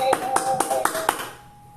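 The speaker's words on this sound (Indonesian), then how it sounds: "tepuk tangan buat kita semua" About five sharp taps or claps at a steady, quick rhythm ring over a sustained tone, in a classroom teaching session. The sound fades near the end.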